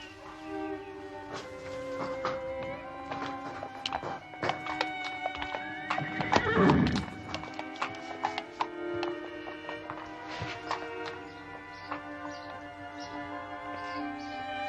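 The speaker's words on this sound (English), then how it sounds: "I'm the only one with a horse like Shoscombe Prince." A horse neighs with a drawn-out whinny midway, while hooves clip-clop steadily on a hard surface throughout. The animal sounds fairly close and no one speaks.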